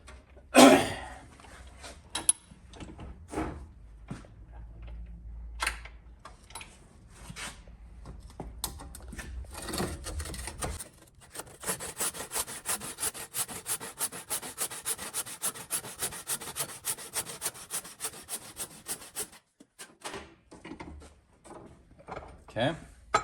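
A saw works back and forth in a swamp oak block, deepening the kerf: slow, uneven scraping strokes at first, then a long run of quick, regular rasping strokes up close, with brief talk between.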